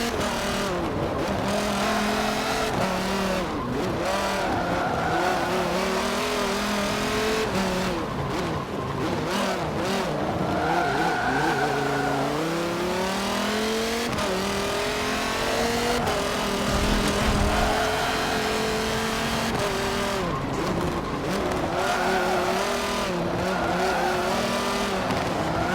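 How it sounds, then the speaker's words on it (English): A race car in the Forza Motorsport 7 video game laps Sonoma Raceway, its engine screaming continuously and rising and falling through gear shifts, with tires squealing through the corners and no one talking. "Make my move to overtake the car ahead."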